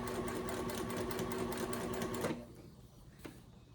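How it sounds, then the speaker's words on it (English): A sewing machine stitching at high speed, used to sew a Lola bag with homemade strap connectors, runs as a steady close whir for about two seconds, then stops, leaving a quieter room with a brief click afterward. "See how it's stitching going that fast."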